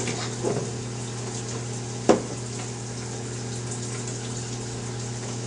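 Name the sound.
shower water rinsing shaved hair off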